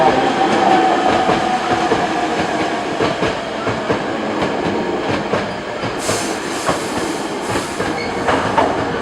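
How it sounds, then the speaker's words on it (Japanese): A Hankyu Railway train bound for Takarazuka arrives at a station platform, with a loud continuous rumble of wheels and rail clatter, rhythmic clicks, and brief high squeals as it slows. "宝塚方面に向かう電車が到着します。"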